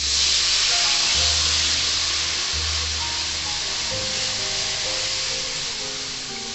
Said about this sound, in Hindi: अब मैं डालूंगी ये कढ़ी का जो मैंने बनाया था बेसन घोल के लस्सी में